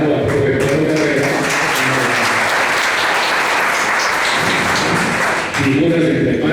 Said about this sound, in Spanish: le damos un aplauso reiterado